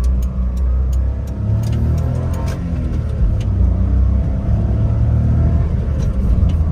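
A Honda Acty mini truck drives around the block, its small engine humming and rumbling steadily from inside the cab with low road noise and slight revving, no voices.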